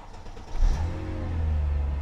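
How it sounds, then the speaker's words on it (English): A Chrysler Crossfire engine turns over and settles into a low, steady idle, with a brief rev near the start and a continuous rumble afterward; the car has an airbag fault. "So let's start the car and see what happens."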